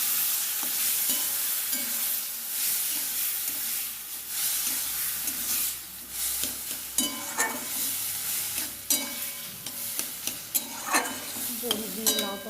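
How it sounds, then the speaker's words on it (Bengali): Bottle gourd with fried lentil dumplings, dried red chilli and five-spice being stir-fried in a pan, giving a steady sizzle with repeated scraping strokes that turn sharper toward the end, with no talking. "এখানে লাউটা ছকবো, 5 ফোড়ন, শুকনো লঙ্কা, বড়ি ভেজে নিয়েছি"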